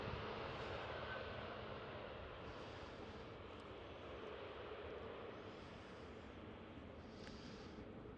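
A KLM Airbus A320neo airliner at Amsterdam Schiphol airport gives off a faint, steady jet roar from a distance, a low continuous rumble with light wind noise and no voices.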